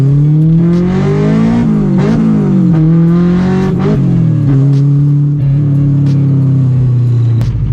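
A car engine revs loudly through several rising and falling sweeps after a new exhaust install, with a deep, throaty exhaust tone that stays close and continuous throughout.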